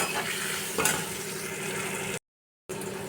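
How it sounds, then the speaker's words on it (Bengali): Tomatoes frying in a pan over lowered heat with salt, turmeric and Kashmiri chilli, a steady close sizzle with occasional stirring scrapes, briefly cut to silence near the end, no talk. "আঁচ কমিয়ে এবার এর মধ্যে আমি একটু নুন হলুদ দিয়ে আমি এটা টমেটোটা নরম হওয়া পর্যন্ত ভাজবো।"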